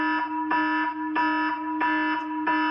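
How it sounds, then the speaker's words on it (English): A phone's panic alarm blares in loud repeating bursts, about five harsh pulses roughly every 0.6 seconds, with no talking over it. "It has stopped the panic alarm."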